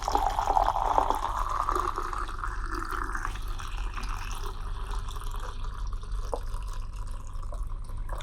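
Film developer liquid is poured into a developing tank, making a steady trickling, filling gurgle over a low background hum that tapers off toward the end.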